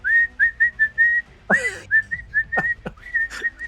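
A string of loud, sharp whistled notes, short repeated bursts with a few swooping rising and falling whistles mixed in, close and clear with no talking.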